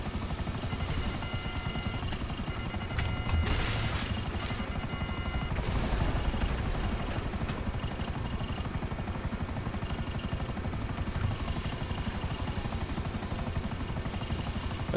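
Helicopter in GTA 5, a continuous rapid rotor chop with engine whine, fairly loud and steady throughout with no talk.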